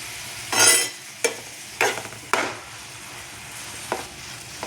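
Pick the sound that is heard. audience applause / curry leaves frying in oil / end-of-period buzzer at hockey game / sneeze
curry leaves frying in oil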